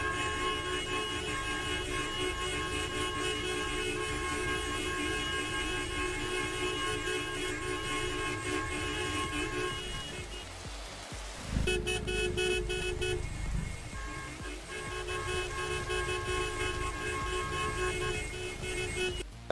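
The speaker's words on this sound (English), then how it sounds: "Oh yeah, here's all of us honking. Honking ASMR." Several car horns honk together almost nonstop in the Roblox game Oaklands, a loud dense chorus of overlapping tones that sputters briefly near the middle before resuming.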